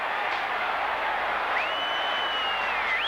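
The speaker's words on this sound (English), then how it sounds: "The crowd roar as Weston goes towards centre half forward" A football crowd roaring at a 1989 Norwood semi final, a dense sustained broadband roar filling the whole stretch, loud and continuous, with a whistle-like tone rising over it.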